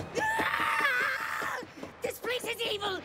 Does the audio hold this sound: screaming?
yes